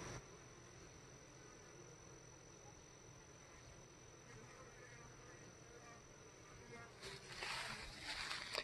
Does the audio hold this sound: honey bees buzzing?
yes